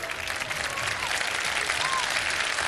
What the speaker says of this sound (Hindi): तालियां तो बजाते हैं बाकी लोग।